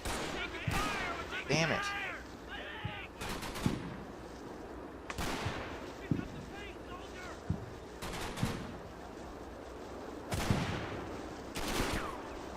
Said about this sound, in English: I just heard MP40 fire.